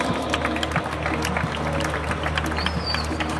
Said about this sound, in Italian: Grazie mille, applausi!